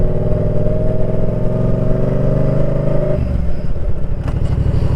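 A motorcycle revs and pulls away in first gear, its engine drone climbing in pitch for about three seconds before dropping to a lower, throbbing pulse as it moves off. The engine is loud and close, with no talking.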